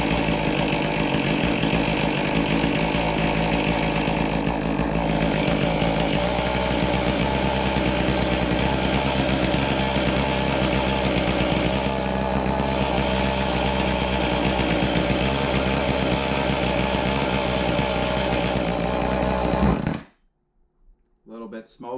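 An Echo 2511T chainsaw running after starting, its small two-stroke engine droning loud and steady up close with slight rises in pitch, then cutting off abruptly near the end.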